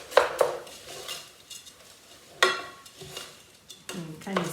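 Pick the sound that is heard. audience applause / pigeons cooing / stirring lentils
stirring lentils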